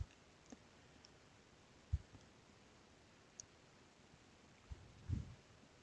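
Computer mouse clicks on a desktop, a few sharp isolated taps spread apart over a quiet background, with a quick double click near the end.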